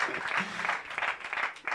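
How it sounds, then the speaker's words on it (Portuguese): Audience clapping at a live stand-up comedy show after a comedian greets a couple in the crowd, a short, fairly faint burst of applause with dense, continuous clapping. "Uma grande salva de palmas"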